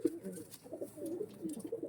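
Pigeons of a fancy breed coo softly in short, soft throaty bursts, quiet and close, with faint rustling between calls.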